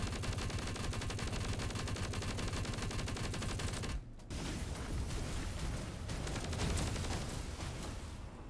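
Dense, continuous gunfire rattles loudly at armored weak points on a boss in a video game, a rapid automatic stream broken by a brief pause before resuming.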